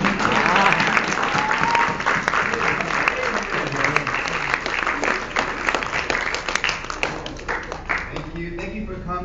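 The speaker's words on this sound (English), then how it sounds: "One hand of applause, big hand of applause." Audience applause fills the room after an amateur church-style play, a dense, steady wash of clapping that holds strong throughout, with occasional voices and cheers mixed in before thinning slightly near the end.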